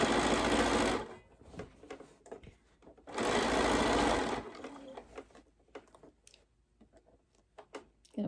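A sewing machine stitching quilt binding, running in two loud, steady whirring bursts separated by pauses filled with small clicks and handling noises.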